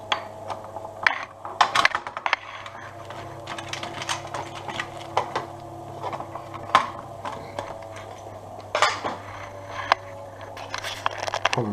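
A vintage Singer sewing machine running with its belt off the motor, giving a soft, steady mechanical whir with clicking, ratcheting ticks and occasional louder clacks, close up and alone.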